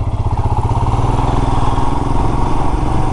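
A motorcycle runs close by on a road between Haridwar and Rishikesh near Chilla dam, its engine putting loudly in a steady pulsing beat that carries on without any talk.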